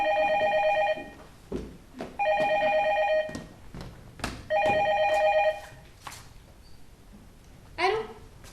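A telephone bell rings in three long, loud trilling bursts separated by pauses, in an indoor domestic scene, followed by a brief rustle as the receiver is picked up.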